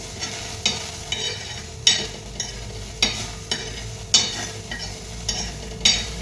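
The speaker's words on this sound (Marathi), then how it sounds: "आता बारीक गॅसवरच कणी तव्यामध्ये मी भाजून घेणार आहे" Charoli seeds are dry-roasted on a griddle over a low flame, a faint rustle and sizzle broken by regular scraping strokes of a spatula against the pan, close up and without talk.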